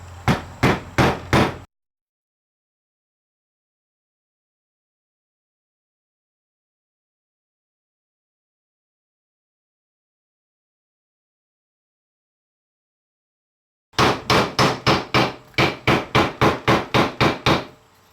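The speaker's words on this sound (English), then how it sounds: "I like to just use a block of wood and a hammer" Rapid bursts of sharp hammer blows on a soft wooden block driving a bushing in a 42RH/A500 transmission pump, a quick series of strikes, then a long silence, then a longer run of about a dozen hits.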